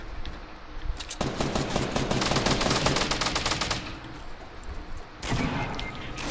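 Sustained automatic gunfire in a video game, loud rapid bursts of shots in two volleys separated by a short gap, with no voices over it.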